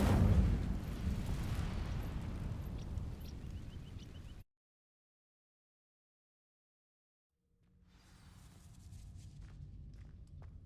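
In the Hogwarts Legacy video game, an Incendio fire spell sets dry vines ablaze with a loud rumbling burst that cuts to silence, then a crackling, shimmering burn swells back in.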